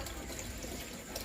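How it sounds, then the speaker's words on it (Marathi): Water runs from a household tap into pots at night as a faint, steady splashing hiss that continues unbroken, with no voices. "नळाला पाणी आलं इतक्यातच."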